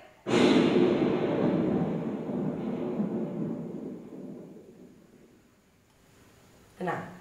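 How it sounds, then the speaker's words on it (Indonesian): A staged thunder sound effect at a school monologue performance booms out suddenly, then rumbles loudly and slowly fades over several seconds. A short rushing noise follows near the end. "Petir tadi sudah disetting dengan panitia."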